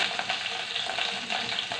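Cumin seeds and curry leaves fry in hot oil for a tempering over a lit stove, a close, continuous crackling sizzle with no voices.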